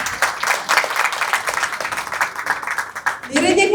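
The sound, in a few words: audience applause at movie audio launch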